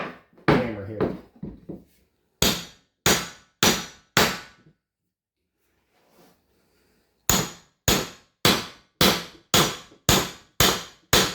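Sharp wooden knocks in quick rhythmic bursts of four or five strikes, with a pause between groups, as a wooden handle is driven into a masonry hammer head; loud and close, no talking.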